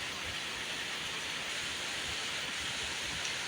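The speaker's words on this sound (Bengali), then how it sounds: "কি সুন্দর বৃষ্টি হয়েছে।" Steady rain falling on a road in Malaysia, a dense, even wash of broadband hiss that stays constant and fairly loud throughout with no pauses or voices.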